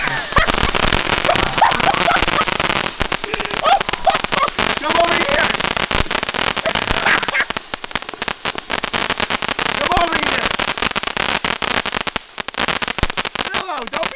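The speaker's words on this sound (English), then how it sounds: "Fireworks, dude!" Fireworks and firecrackers crackle and pop in dense, rapid bursts close by and loud outdoors, a continuous sputtering barrage with sharp snaps, while people shout excitedly over the noise.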